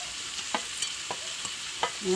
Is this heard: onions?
yes